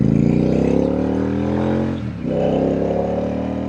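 A Royal Enfield Super Meteor motorcycle engine thumps loud and close with a steady, deep rhythmic burble, dipping briefly midway as the throttle eases, then picking back up.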